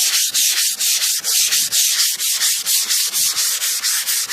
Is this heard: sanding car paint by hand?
yes